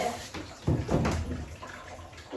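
Tap water runs steadily into a basin to froth shampoo while a short-clipped Shih Tzu is groomed, a soft continuous splashing wash with a few louder gushes and no talking.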